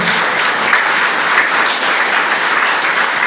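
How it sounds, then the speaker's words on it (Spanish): Congregation applauding during a church sermon, a steady dense burst of clapping throughout. "¿Cuánto da un aplauso a Él?"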